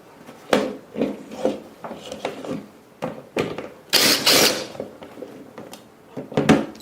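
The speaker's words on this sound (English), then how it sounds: "first things first, get these screws out of here" Screws being worked out of a clock during a teardown for a vinyl record clock build, with close, irregular scraping, rubbing and small clicking handling noises, some brief louder rasping bursts, and no speech.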